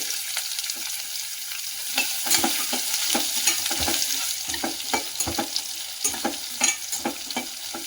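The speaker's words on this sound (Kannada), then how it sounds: "ಆಮೇಲೆ ನಾನು ಕ್ಯಾರೆಟನ್ನು ಹಾಕ್ತಾ ಇದ್ದೀನಿ." Carrots fry in a pan for pudina rice bath with a steady sizzle, punctuated by frequent rhythmic scrapes and clicks of stirring, close and fairly loud with no speech.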